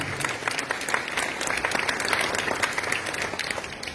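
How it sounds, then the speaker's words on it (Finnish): A studio audience at a Finnish schlager music show claps steadily and evenly throughout, moderately loud with no talk over it. "Aplodit Seppo Matilta."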